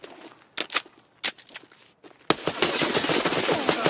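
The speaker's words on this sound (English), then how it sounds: "Someone's shooting" Video game gunfire: a few sharp single shots spaced apart, then a sustained loud burst of rapid automatic fire that keeps going to the end.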